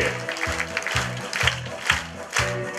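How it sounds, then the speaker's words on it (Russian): Audience applause at a Komsomol centenary gathering in Iskitim welcoming the participants, steady broadband clapping throughout over a rhythmic low musical pulse repeating about every half second. "Прошу аплодисментами поприветствовать всех участников нашей встречи!"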